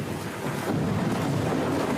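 Thunder in a storm rumbles as a steady, loud, broad roar with rain and wind noise, with no distinct crack and no voices.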